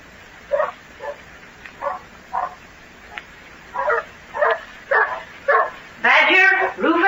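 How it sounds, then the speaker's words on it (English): Several dogs bark and yip in short bursts in a 1944 radio drama, some overlapping, ending in a louder flurry of barking nearby. "Stop that barking."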